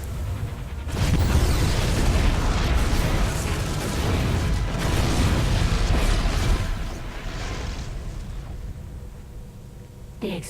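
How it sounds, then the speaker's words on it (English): Heavy, rumbling explosions in StarCraft 2: Heart of the Swarm boom in bursts with crackling debris, loud and close, then fade toward a quieter tail with brief voices underneath. "The explosions have stopped."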